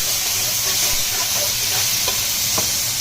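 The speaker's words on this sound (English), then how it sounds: "So, wok is hot. I've added some vegetable oil. That's a little bit of chopped garlic." Chopped garlic sizzles in hot vegetable oil in a wok during a shiitake mushroom stir fry, a steady close frying hiss with faint scattered crackles and a few soft knocks.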